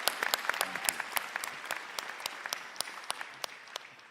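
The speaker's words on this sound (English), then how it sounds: "So can we please give them another round of applause?" A conference audience applauds in a hall, a dense burst of many hands clapping that gradually fades over a few seconds, with no talk over it.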